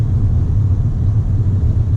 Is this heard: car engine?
yes